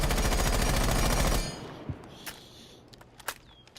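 Buck's C8 assault rifle from Rainbow Six Siege firing a rapid, loud automatic burst for about a second and a half, then stopping, followed by faint scattered clicks and clinks in a quiet tail.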